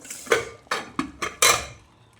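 Masala with green chillies for a mutton curry is sautéed in a pan, heard as five or so distinct, loud spatula knocks and scrapes against the metal in an uneven rhythm, with little sizzle and no talking.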